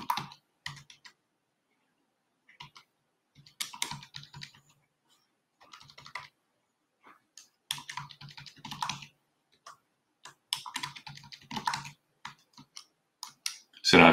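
Password typed on a computer keyboard, close crisp key clicks in short irregular bursts separated by pauses, quiet between strokes.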